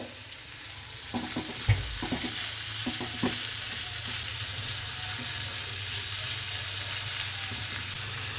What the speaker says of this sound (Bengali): খুব ভালো করে নেড়ে দিই